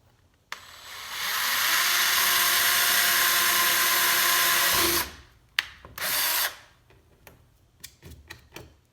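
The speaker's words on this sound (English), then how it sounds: "now I'm doing the final drill with the 5/16 drill bit" A power drill with a 5/16-inch bit drilling rivet holes in a license plate bracket whines steadily for about four seconds, then stops; a short second burst follows amid clicks and small tool knocks.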